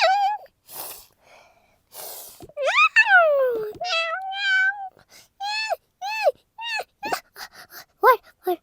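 A cartoon cat from the Toca Life World game lets out a series of short, high, rising-and-falling meows, some drawn out, spaced irregularly with brief quiet gaps between them.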